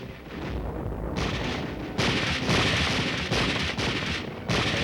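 Combat training with live ammunition and grenades during street fighting drills, rapid bursts of loud gunfire crackling in clusters with short gaps, dense and continuous, no voices.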